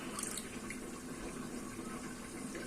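Hot water drains off boiled, soaked rice during mutton Hyderabadi biryani cooking, making a soft, steady trickling pour that is quiet and heard alone for a few seconds.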